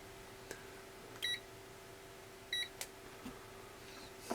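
A Banggood multimeter with a no-contact voltage tester gives short electronic beeps, three brief quiet tones spaced about a second or so apart, with faint clicks between them over a low background hum.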